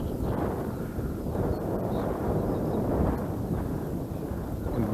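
Strong wind buffets the microphone beside a pond in a constant low roar, with no talking.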